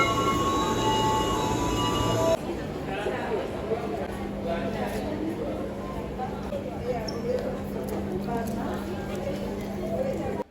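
A train pulls into Solo Jebres railway station with a steady rumble and drawn-out squealing wheels, and a louder mechanical burst at the start. Voices can be heard around the platform.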